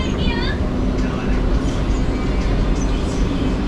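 A train stands at a station stop on an early morning rail journey toward Varanasi. Its loud rumble holds steady throughout, with brief squeals near the start and voices murmuring beneath.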